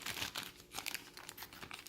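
Quiet, brief crinkling of a plastic bag from a first aid kit, with soft irregular rustles and crackles close by.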